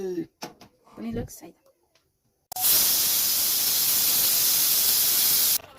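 Pressure cooker of dal, cooked with taro stems, lets out a loud, steady hissing whistle of steam lasting about three seconds, right after a few seconds of speech.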